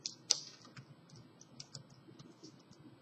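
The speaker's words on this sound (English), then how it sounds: "And so here I would type in the word." Computer keyboard being typed on, a short burst of light, close key clicks at an irregular pace, with one sharper tap near the start.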